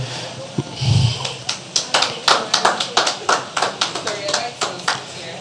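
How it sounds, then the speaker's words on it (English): Scattered clapping from a small group at a cloud technology conference in Nigeria, sharp claps clustering into a brief round of applause that thins out, with murmuring voices underneath. "Please, can we give a round of applause for Ms. Justina Omoife"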